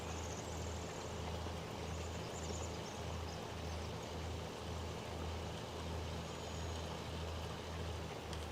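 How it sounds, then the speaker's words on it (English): Tractor pulling a cultivator in a farming video game, a steady low engine drone with a regular rhythmic pulsing, constant and fairly loud with no voices. "we can pull this cultivator really well with this tractor"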